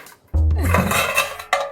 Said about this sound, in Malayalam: അമ്മമ്മ കൈ തട്ടി പാത്രം താഴെ വീണതാണ്